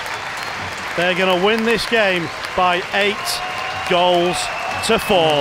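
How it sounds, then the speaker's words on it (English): Ice hockey crowd applauding a Sheffield Steelers victory over the Nottingham Panthers: steady, dense clapping fills the arena beneath a commentator's continuous voice. "the fans are going to rise to applaud a quite incredible Steelers victory"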